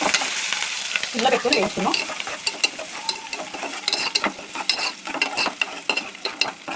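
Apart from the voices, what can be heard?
onion and green chillies frying in tempering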